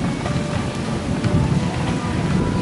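Steady gusty wind roaring into the microphone, a broad low rumble with buffeting that swells and eases throughout, no voices.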